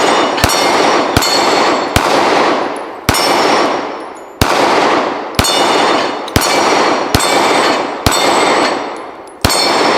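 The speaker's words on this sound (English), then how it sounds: "let's just shoot the tree a little bit" A series of sharp firearm gunshots fired into a tree, about ten loud, close reports in irregular succession, each followed by a ringing decay.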